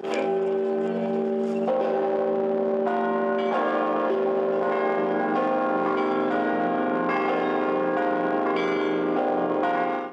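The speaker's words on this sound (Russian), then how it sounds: "Уже через несколько минут со звоном первого колокола храм" The large bells of a cathedral in Chelyabinsk ring together in a full, resonant peal, overlapping strikes sustaining continuously with no voices.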